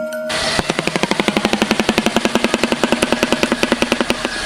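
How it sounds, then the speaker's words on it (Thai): A loud, rapid, machine-gun-like clattering of a shoebill's bill, steady and rhythmic for several seconds, close up. "เสียงร้องของนกกระสาปากพลั่ว"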